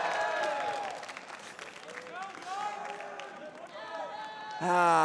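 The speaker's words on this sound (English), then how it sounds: "Would you guys please give it up for Over and Dart?" A tournament crowd at a Super Smash Bros. Melee top-8 event applauds the players, a broad wash of clapping running beneath an announcer's voice and swelling louder at the very end.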